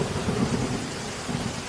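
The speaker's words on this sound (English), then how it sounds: "it suddenly starts to rain" Steady rain with low rumbling thunder rolling beneath it, a dense continuous storm wash heard up close with no voices.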